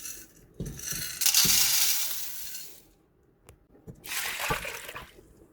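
Two liters of water pour into a cooking pot in a kitchen in two splashing bursts separated by a short pause, close and moderately loud.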